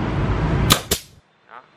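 A nail gun fires nails into small pieces of soft wood: two sharp, close cracks in quick succession, followed by a fainter knock after a short silence.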